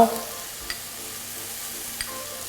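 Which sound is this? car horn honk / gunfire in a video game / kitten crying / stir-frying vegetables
stir-frying vegetables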